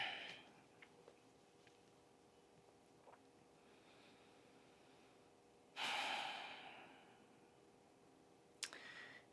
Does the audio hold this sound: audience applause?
no